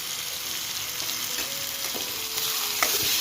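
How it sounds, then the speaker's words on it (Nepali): Chopped tomatoes stirred and fried in a hot pan for a fish curry, a steady close sizzle broken by scraping strokes of the spoon, with no talking. "टमाटर हाल्छु अनि यसलाई फेरि एकछिन चलाउँछु।"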